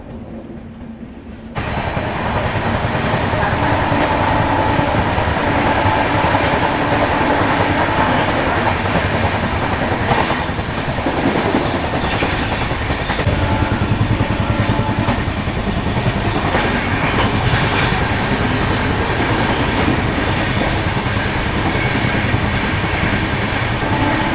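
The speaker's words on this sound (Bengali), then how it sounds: "স্টেশন ছেড়ে বেরিয়ে গেলো আমাদের গরিব রথ এক্সপ্রেস।" The Garib Rath Express runs steadily on its tracks after leaving Kolkata station, giving a loud, continuous rumble with rattling carriages and faint clickety-clack, heard close up from inside with no talk.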